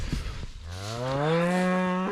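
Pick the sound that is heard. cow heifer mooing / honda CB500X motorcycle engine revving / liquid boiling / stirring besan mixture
cow heifer mooing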